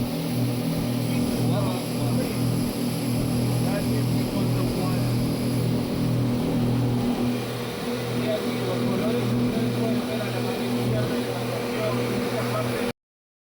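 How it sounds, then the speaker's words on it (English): Low steady drone of a big black and red ship's engine off Paracas Islands, a constant near rumble with tonal hum running throughout under wind. "That sound comes from that boat on the left side, that big ship, black and red."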